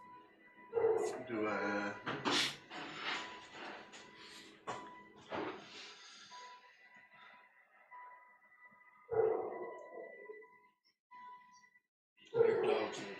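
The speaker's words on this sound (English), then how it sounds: "We hear dogs in the distance" Dogs bark in the distance near a cobblestone street, several separate bursts of barking and yipping rising over quiet room tone, with people talking over the first few seconds.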